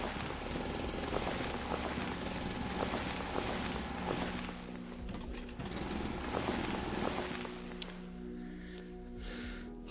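A drill boring into rock in the video game Foundry: a continuous rough, rattling grind with rhythmic pulses, steady and moderately loud, tapering into quieter mechanical hum toward the end.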